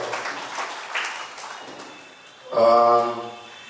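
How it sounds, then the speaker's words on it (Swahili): A church audience applauds briefly, a soft wash of clapping that fades, followed by a raised voice near the end. "Tuwapigie makofi kwa uchache wao."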